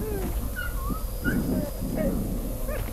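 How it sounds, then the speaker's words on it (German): A dog whimpering inside a grave in the horror video game Paranormal, thin plaintive whines repeating over a dull steady background rumble. "Ist der Hund in dem Grab?"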